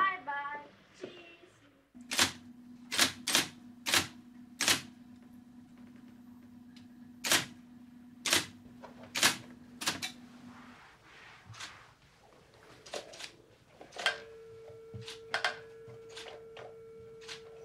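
Keys strike a typewriter in sharp, separate clacks, some single and some in quick bursts, with a sustained tone running under the first half and a second tone near the end, in a quiet room.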